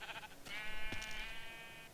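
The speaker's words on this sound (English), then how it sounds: "And a bunch of sheep." A sheep in the Minecraft video game gives one drawn-out bleat of about a second and a half, with a wavering tone. Faint broadband noise sits underneath and no one speaks.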